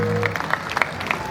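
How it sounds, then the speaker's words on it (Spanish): Audience applause at a Xantolo festival dance performance in Atlapexco, Hidalgo, a steady patter of clapping with scattered sharp claps over a sustained musical tone, moderately loud and continuous. "Que se escuche el aplauso para despedir esta cuadrilla bien ejecutada."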